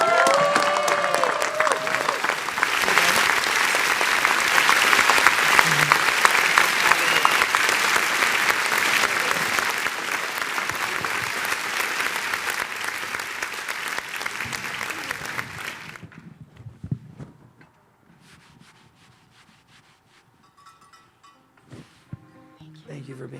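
Loud, sustained audience applause fills a live talk event, steady for about fifteen seconds before tapering off to a quiet room with scattered faint noises.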